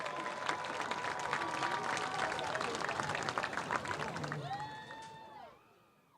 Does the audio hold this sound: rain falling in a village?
no